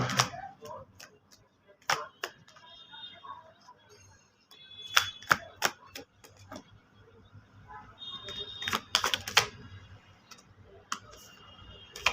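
Tarot cards are shuffled in a scattered series of crisp clicks and riffling snaps, some in quick clusters, with quiet pauses between and faint background sound.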